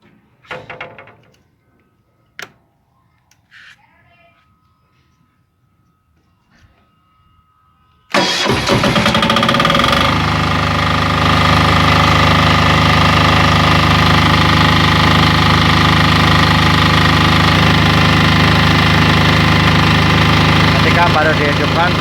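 A silent-type 7–10 kVA generator starts without choke after a few quiet clicks and handling noises, then settles into a loud, steady idling hum with constant engine vibration; someone speaks briefly before it fires.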